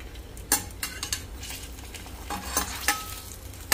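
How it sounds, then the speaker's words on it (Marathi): Varhadi rodge dough balls pan-roasting in a covered pan, with a soft steady sizzle under scattered scraping and stirring clatters of a utensil against the pan, close and fairly quiet. "आपण आता यांना परतून घेऊया"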